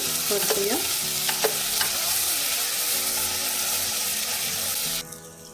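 Onion, tomato, ginger and garlic fry until golden brown, producing a continuous close sizzle with spoon scraping and stirring strokes early on, then cutting off abruptly at the end.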